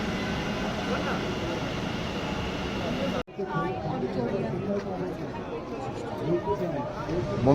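Whooshing roar of a moving metro train heard from inside the carriage, loud and continuous, breaking off abruptly midway then resuming with clattering and a voice talking over it.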